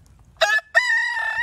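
A rooster crows loudly and close by, a short opening note and then a long drawn-out call, over a quiet farmyard background.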